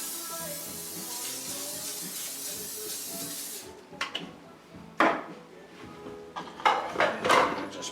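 Cooking spray hisses steadily into a baking dish for gluten-free lobster mac and cheese for several seconds, then stops and gives way to a few clattering knocks of the dish and utensils.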